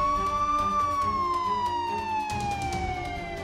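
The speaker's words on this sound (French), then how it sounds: "Une ambulance! Laissez-la passer!" A cartoon ambulance siren wails loud and close in one long tone that slowly glides downward, with faint clatter beneath and no speech.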